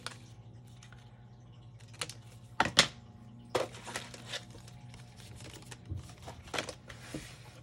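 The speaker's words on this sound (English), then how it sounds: "Let's use my scissors and trim a little bit more off" Scissors trim paper for a handmade junk journal in a few quiet, close snips and crisp paper rustles, scattered irregularly over a soft background hum.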